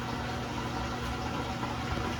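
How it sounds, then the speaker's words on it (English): A Samsung Flexwash washer drains water, giving a steady rushing flow with a low pump hum, continuous and unbroken at close range. "There's the drain."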